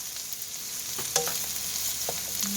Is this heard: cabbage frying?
yes